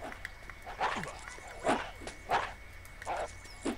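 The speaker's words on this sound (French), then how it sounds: "Tiens, j'entends un chien." A dog in the video game Postal 2 barks five times at roughly even intervals, moderately close but fairly soft over a quiet game background.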